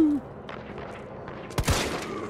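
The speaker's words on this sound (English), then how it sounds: "I hear gunshots." A single sharp, fairly loud gunshot bang from the video game Resident Evil 3 Remake rings out amid low ambient game sounds, preceded by faint distant rattles.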